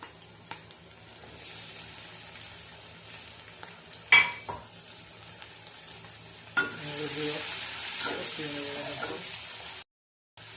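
Shrimp and bottle gourd fry in a pan with green chillies, a soft sizzle that swells into louder hissing as ingredients go in, with a sharp clatter and some stirring noise, heard close and without talking.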